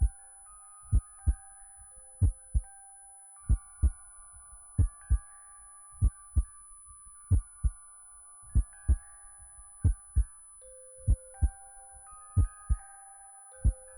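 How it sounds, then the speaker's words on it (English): A steady run of heartbeat thumps sounds as an effect in the dark fantasy visual novel A Tithe In Blood. The deep beats come in uneven pairs and singles, loud and close, over sustained soft musical tones, with no talking. "The heartbeat stresses me out though, but like... Bring that sound back."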